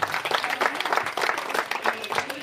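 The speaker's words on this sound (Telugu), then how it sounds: "ఇక్కడ కూర్చున్నటువంటి మన ఫ్రెండ్స్ అందరూ గట్టిగా ఒకసారి క్లాప్స్ కొడతారని కోరుకుంటున్నాం" Friends seated at a junior college get-together party give a dense burst of enthusiastic clapping, loud and close, forming a busy patter throughout with faint voices mixed in.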